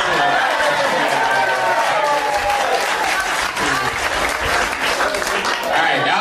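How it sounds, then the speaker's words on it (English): Steady, loud audience applause at a stand-up comedy show fills the whole stretch without pause, with a faint murmur of crowd chatter underneath. "that was a round of applause"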